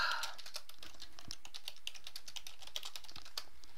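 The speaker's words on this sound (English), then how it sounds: "Oh, he's typing a message." Rapid, steady clicking of keys on a computer keyboard, close and continuous with an even rhythm of light taps, no speech during it.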